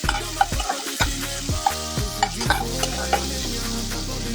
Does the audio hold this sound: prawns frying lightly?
yes